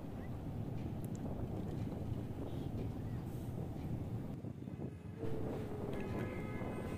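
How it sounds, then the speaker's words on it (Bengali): A toy train runs along a road inside Eco Park, giving a steady low rumbling engine drone mixed with outdoor wind noise throughout. "এ দেখো কি সুন্দর রাস্তায় টয় ট্রেন চলছে।"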